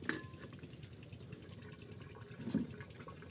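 Water pouring into a solar pump in a rice field, a steady low splashing stream with a slightly louder gush near the end, no one speaking.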